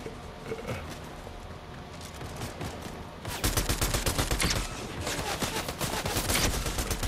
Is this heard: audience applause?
no